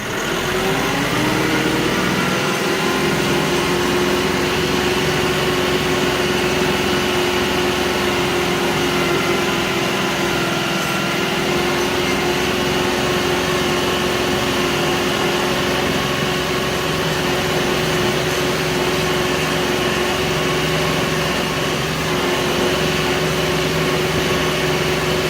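A KIOTI NX4510 HST tractor engine drones continuously and evenly while driving up a rutted hill, a steady mechanical hum with no talking.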